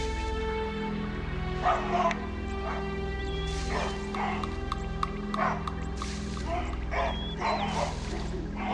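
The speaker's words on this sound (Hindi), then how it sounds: "बबूनों ने शोर मचाना शुरू कर दिया है।" Baboons in the African wild bark and yelp in repeated sharp calls about once a second, moderately loud over a steady low drone.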